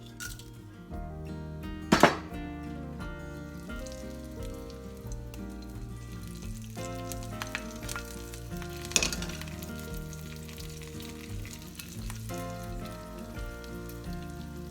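Spices tempering in hot oil for kadhi, a long close crackling sizzle with scattered pops and a couple of sharp utensil clinks.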